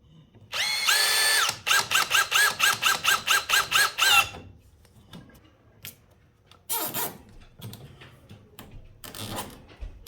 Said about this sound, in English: I'm gonna drill a hole and put a zip tie.